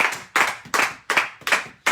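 A church congregation claps together in steady rhythm, about five sharp, loud unison claps spread over two seconds, with no talking.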